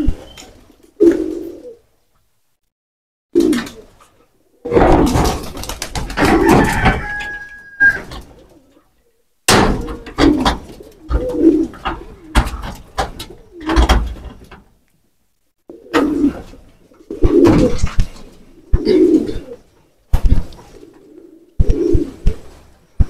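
Pigeons coo in repeated low, throaty bursts with pauses between, close by, mixed with wing flutters and rustling in the middle.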